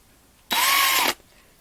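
A DeWalt 36-volt power drill bores out a diecast rivet on a 1/64-scale NASCAR model car: one loud, close burst of high whining drilling lasting under a second, with no other sound around it.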